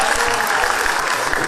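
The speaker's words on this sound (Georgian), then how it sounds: "მათ გამოჩენაც კი დარბაზიდან განსაკუთრებული ოვაციები მოჰყვა." An audience in a concert hall claps in dense, sustained applause, a loud even patter of many hands with no break across the short span.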